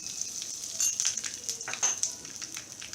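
Cumin seeds and asafoetida sizzle and crackle steadily in hot oil for an okra dish. A soft, hissing fry carries faint pops and light stirring throughout.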